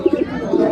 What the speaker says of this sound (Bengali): এখানে এক জোড়া কিং কবুতর আছে দেখতে পাচ্ছেন